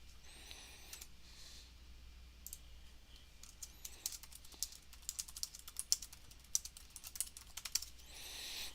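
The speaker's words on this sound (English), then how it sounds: "I know I like typing it out, guys." A computer keyboard clicks under quick, irregular typing, close but fairly quiet, starting sparse and building into dense runs of keystrokes with short gaps, no talk over it.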